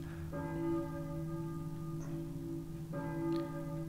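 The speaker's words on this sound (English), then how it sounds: "I hear a church bell, I think" A deep church bell in the video game Silent Hill tolls twice, each strike ringing out with a long humming sustain, clear and unaccompanied.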